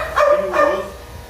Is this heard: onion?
no